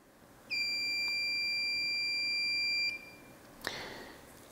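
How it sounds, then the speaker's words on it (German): A groundwater level probe dipped into water gives a single continuous electronic beep for a little over two seconds, a steady high-pitched tone, followed by a brief splash or clatter. "Wenn ich also diese Sonde ins Wasser eintauche, dann hören Sie, es piepst und die Signalleuchte geht an"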